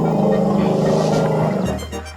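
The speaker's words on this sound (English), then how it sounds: "Can you hear a rumble of a trumpeting trunk?" An elephant trumpets loudly and close by, a sustained brassy roar lasting about two seconds before tailing off abruptly.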